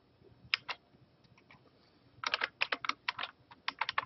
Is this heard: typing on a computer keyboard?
yes